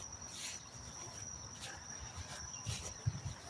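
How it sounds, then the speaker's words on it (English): Crickets chirp at night in a steady, faint, continuous trill with a high whining tone, quiet and distant, with soft low rustling in the background and no clear speech. "I don't know if you could hear the crickets. There's a lot of crickets in there."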